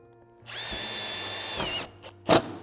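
A cordless drill whines up and drives a screw into metal roofing panels in a single sustained burst of a little over a second, followed by a couple of short clicks and a sharp knock.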